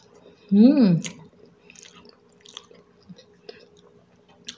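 Spaghetti with white cheese being chewed during a casual dinner mukbang, with soft wet chewing and small clicks. A louder vocal burst comes early, then quieter mouth sounds follow close to the microphone.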